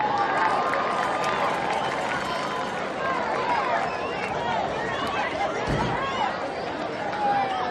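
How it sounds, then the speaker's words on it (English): Crowd noise in the stands at a Utah high school football game, with a broad, steady wash of applause and cheering for the cheer squad. Scattered chatter mixes in throughout. "applause for our cheer squad."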